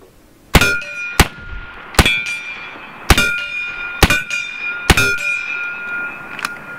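Air rifle pellets striking steel gongs 50 yards away, fired from a BIN TAC S45 semi-auto air rifle: five or six sharp metallic clangs with ringing tails, spaced about a second apart, clear and fairly loud with no talking.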